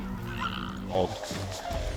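Cackling geese on an Oregon goose hunt give a burst of honking and cackling calls from a flock, brief and fairly near, mixed with a voice talking over them.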